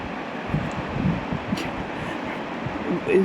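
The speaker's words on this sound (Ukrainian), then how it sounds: "Сьогодні дощить, трохи вітряно." Steady wind noise and rainy wash fill the air at a seaside port in Italy on a wet day, a constant close rumble with faint rustling bursts and no clear voices.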